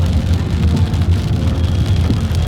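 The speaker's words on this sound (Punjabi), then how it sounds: "ਫਿਰ ਮੀਂਹ ਆ ਗਿਆ" Steady rain pouring down on the Hemkunt Sahib route, a dense continuous hiss and patter with a low rumble underneath, no voices.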